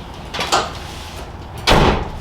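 Car doors shut on a vehicle fitted with a Rockford T2 13-inch subwoofer system: two solid thumps, one near 0.4 s and a louder one near 1.7 s, with no talk.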